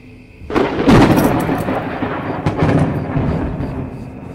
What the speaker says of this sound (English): Trying to hit me with some scary lightning.